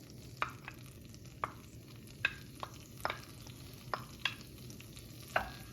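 Ingredients for a moules marinières mussel dish sizzle quietly in melted butter in a pan, a soft steady crackle broken by several sharp clicks of a utensil stirring against the pan.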